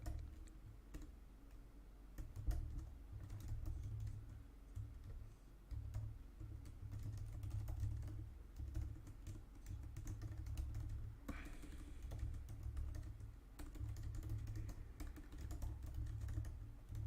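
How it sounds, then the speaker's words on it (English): Steady computer keyboard typing runs through the clip, with dense soft key clicks and a low background hum, no talking. "I am so tired of typing this."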